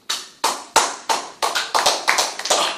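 A church congregation claps for Jesus in sharp, rapid, uneven strokes that start together and stay loud and close, with no voices over them.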